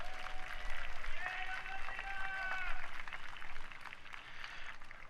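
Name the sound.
audience applause for saxophone players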